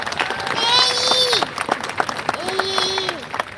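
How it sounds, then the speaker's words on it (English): Crowd applause for faculty, teachers and staff at a high school graduation, clapping and cheering mixed with excited voices and whoops, sustained over a few seconds. "I want to give a moment to give a huge round of applause to all the faculty, teachers, and staff who made these last 4 years possible"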